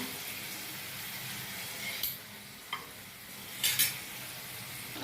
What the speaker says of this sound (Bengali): টমেটোটা সাতলানো প্রায় হয়ে গেছে